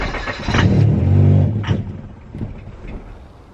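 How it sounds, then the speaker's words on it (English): A Honda Prelude engine sputtering along on starting fluid instead of fuel, surging up in a rough rev then sagging and stumbling, close and loud with no talking. "Yeah, it's running on starting fluid, it's not fuel."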